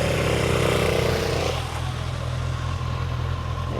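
A Harley-Davidson motorcycle engine idles with a deep, steady low rumble, a louder mechanical layer dropping away after the first second and a half while the low throb continues close by.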